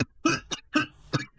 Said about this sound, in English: I'm so sorry about the coughing